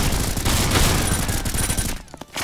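Rapid gunfire in the Roblox game Ragdoll Universe, a loud continuous barrage of shots filling most of the clip before easing off, with a few separate bursts near the end and no talk.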